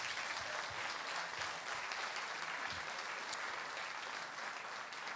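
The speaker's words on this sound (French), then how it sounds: "Nous pouvons applaudir largement" Sustained, full applause from a theatre audience at the closing ceremony of the Mont-Blanc humour festival, dense and even clapping filling the hall throughout.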